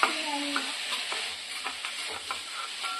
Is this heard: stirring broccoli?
yes